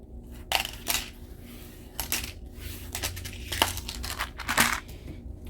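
Tarot cards being shuffled by hand, crisp riffling and slapping bursts repeating every second or so at close range over a low background hum.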